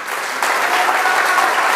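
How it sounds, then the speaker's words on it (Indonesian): A church congregation in Mentawai, Siberut, breaks into loud, dense applause and cheering for God. The sound swells into a sustained roar of clapping. "Berikan sorak-sorai buat Tuhan"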